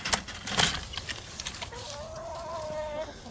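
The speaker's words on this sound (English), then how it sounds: "Come on, chickens, let's get food." Chickens cluck close by in a farmyard, with scratchy rustling and a few sharp noises at first, followed by a steadier, drawn-out cluck toward the end.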